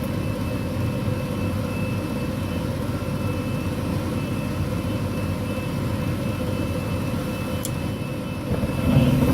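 A gas furnace lights through its hot surface igniter and gas valve, giving a steady, close burner roar that holds evenly and swells slightly at the very end.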